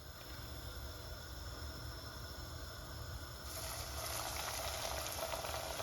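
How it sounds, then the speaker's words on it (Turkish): Taş kadayıf dough frying in hot oil, a steady close bubbling sizzle that grows louder and brighter partway through. "kızgın yağda taş kadayıflarımızı pişireceğiz"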